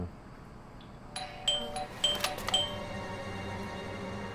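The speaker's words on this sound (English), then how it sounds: "I thought I should use the doorbell so I wouldn't startle you." A doorbell rings at a door in the video game Blues and Bullets, sounding a few bright, chiming tones in quick succession over a low ambient hum, with no talking.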